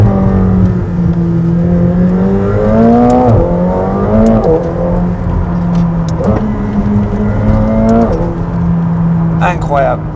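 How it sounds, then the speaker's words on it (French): A McLaren 720S Spider's turbocharged engine runs loud and close with rising and falling tonal sweeps as it shifts, a faint turbo whistle riding over the steady drone while a person talks throughout. "Je ne sais pas si vous entendez les turbos, mais elle siffle."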